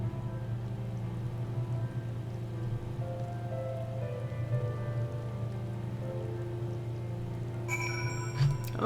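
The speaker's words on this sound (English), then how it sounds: "Oh, it's raining." Rain falling in Final Fantasy XIV, steady patter on surfaces under a low droning ambience with soft melodic tones, with a brighter chiming burst near the end.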